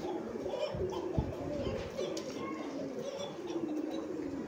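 Pigeons at a pigeon farm give low, soft cooing calls that repeat over several seconds against a muffled, busy background.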